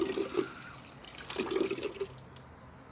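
Water runs from a tap with a steady splashing hiss, punctuated by a few gurgling drips and bubbly pulses, fairly quiet and close.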